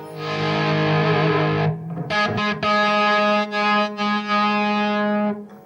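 A heavily distorted electric guitar, run through effects pedals with distortion fully up, sustains a thick chord, then plays a series of loud, buzzing chords with brief cuts between them.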